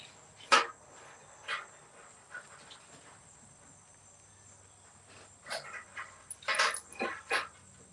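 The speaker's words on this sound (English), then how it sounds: "The dog is just disturbing me." Grizzly the dog lets out a handful of short, scattered whimpers and yelps, fairly faint, over a thin high insect-like whine in an otherwise quiet room.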